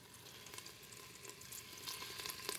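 Beef cubes browning in a pressure cooker sizzle faintly and steadily, with small crackling pops that rise slightly toward the end.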